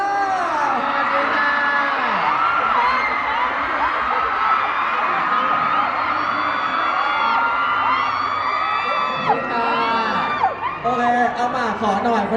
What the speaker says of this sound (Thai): ขอเสียงปรบมือต้อนรับอีกหนึ่งท่านครับ